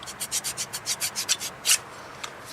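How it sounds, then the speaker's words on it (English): Metal tool scraping rust off a metal surface in quick back-and-forth strokes, about a dozen short rasping passes at a steady rhythm, close up, then a couple of isolated scrapes after a pause. "The idea is you just want to get all of the extra rust off of there."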